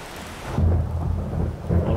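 Thunderstorm with rain in the survival video game 7 Days to Die: a steady wash of rainfall under deep, rolling thunder rumbles that swell and fade, with no talk.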